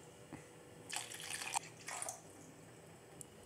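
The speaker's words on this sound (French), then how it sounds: "On commence par verser l'eau au fond de la cuve." Water poured from a container into the bowl of a pizza dough mixer, two short splashing bursts close by, fairly quiet, with a faint drip afterward.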